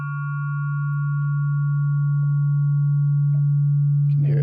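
A steady synthesizer tone with LFO modulation being reduced from full to none, holding a constant pitch with faint overtones, loud and alone, before a brief burst of noise cuts in at the end.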